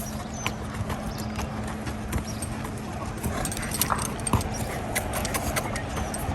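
Horse hooves clip-clop steadily on the ground during a riding lesson while a rider practises mounting, with a few faint dog whimpers and no talk.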